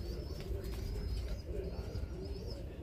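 Birmingham Roller pigeons, part of a bred flock, coo softly in repeated rolling phrases close by, with faint chirps over a steady low background rumble and no talking.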